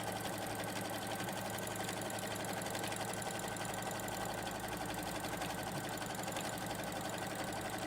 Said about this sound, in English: we're going to stitch moving fabric and template together all the way around